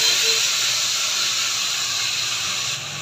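Fried fish meets hot oil in a heated kadai, producing a loud, steady hiss and sizzle that fills the moment and eases slightly quieter at the very end.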